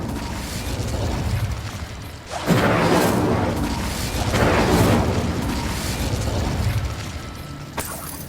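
In Hogwarts Legacy, an Incendio fire spell is cast and sets off deep whooshing bursts of flame that swell and fade in waves over a low rumbling game soundscape, ending with a brief sharp click.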